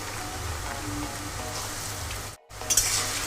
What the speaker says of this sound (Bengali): এবার আমি যে আলু কেটে রেখেছিলাম ডুমো ডুমো করে কেটে রাখা আলু দিয়ে দেবো